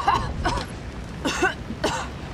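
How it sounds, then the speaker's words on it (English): Short harsh coughs, three or four in a row, close and fairly loud, with no other sound around them. "Cough, cough."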